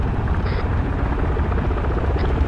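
Helicopter in the Arma 3 video game, a steady close rotor drone with low chopping thrum held loud and unbroken throughout, with no voices.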